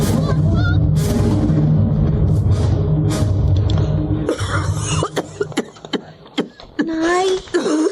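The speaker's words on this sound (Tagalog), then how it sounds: "inuubo naman po kayo." Several harsh coughs ring out amid other voices and background sound, followed by a few sharper bursts and someone speaking near the end.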